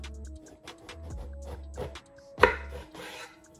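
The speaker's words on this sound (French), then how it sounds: "Là donc on va couper l'aubergine dans le sens de la longueur à part égale." A knife cuts an aubergine lengthwise on a board, giving a few soft thuds and one sharper chop near the end, close and fairly quiet, with no talking.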